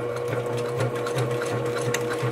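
Sewing machine stitching forward across bag strap connectors, a loud, close, continuous rhythmic chugging of rapid stitches with no voices over it.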